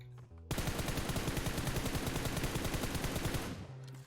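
Automatic weapon fire in the mobile battle royale game PUBG Mobile rattles out in a rapid, continuous burst of shots lasting about three seconds, loud and close, before cutting off.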